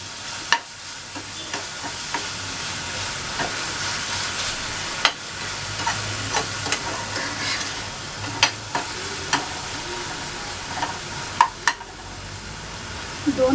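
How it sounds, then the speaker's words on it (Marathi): Cooked dal (varan) is stirred into a sizzling spice tempering. A steady fry hiss runs underneath while a spoon scrapes and clicks against the pan at irregular intervals. "इथेच घालणार आहोत वरण आणि या सगळ्या मसाल्याला लागलं पाहिजे"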